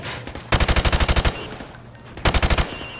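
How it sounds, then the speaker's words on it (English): Rapid automatic gunfire in Modern Warfare Remastered, shooting targets through plywood: a loud burst of about eight rounds, a pause, then a shorter burst of four. "I want you to shoot the targets through the wood."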